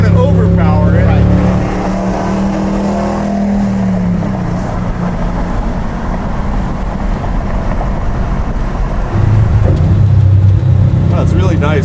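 A modified pickup truck's engine revs hard with quick throttle blips, loud and close, its low rumble steady underneath while voices talk over it.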